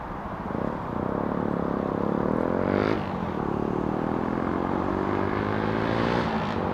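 Jet airliner in Saudia Formula E racing livery taking off from Heathrow Airport, a loud sustained engine roar with rising and falling whine, close and continuous throughout.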